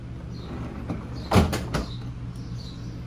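A brief clunk and soft thud of a 2020 Keystone Alpine AL3651RL RV's freezer door being pulled open, close by, against a quiet humming background.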